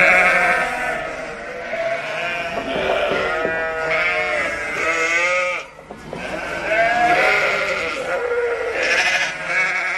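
Mountain flock of sheep with ewes bleating, several animals calling over one another in wavering, overlapping cries, close and loud throughout with only a short lull midway.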